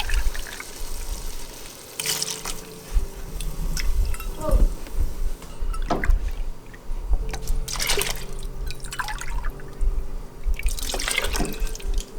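Heavy cream and milk poured into a pan on low heat give bursts of liquid splashing and trickling, with drips and clatters between pours at moderate loudness.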